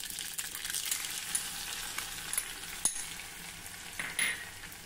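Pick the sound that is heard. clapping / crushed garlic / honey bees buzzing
crushed garlic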